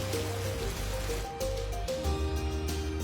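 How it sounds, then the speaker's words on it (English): Rainwater runs off mountains toward a valley floor, a steady broad rushing wash that holds on without a break beneath sustained musical tones. "The rain runs off the mountains, building momentum as it descends to the valley floor."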